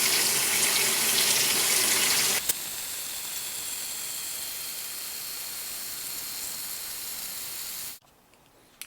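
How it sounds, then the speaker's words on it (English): Hot water from a tap pours steadily into a kitchen sink, a loud rushing hiss that softens after a couple of seconds, keeps running, then cuts off near the end. "Just going to let that sink fill up."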